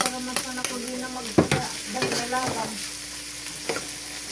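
Cabbage being stirred into a pot of macaroni soup, with irregular clattering scrapes and knocks of a spoon against the pot, one sharper knock in the middle, all fairly close and with no talking.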